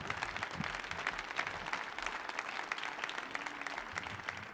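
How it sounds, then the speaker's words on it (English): Applause from a concert audience fills the space, many hands clapping in a continuous, even patter with a little crowd noise mixed in. "Clap your hands."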